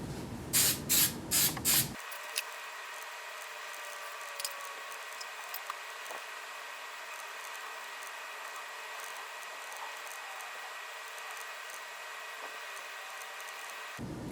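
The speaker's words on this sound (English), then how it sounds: "spray some hairspray" Several short, sharp aerosol spray bursts in quick succession at the start, then a long stretch of faint hiss and quiet room tone.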